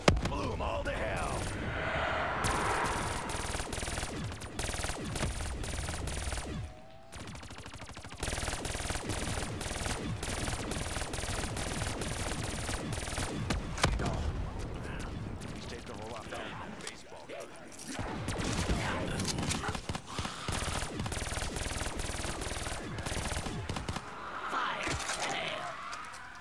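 Rapid automatic gunfire in a zombie-killing video game rattles almost continuously in long bursts with brief pauses, close and dense, while a player talks over it.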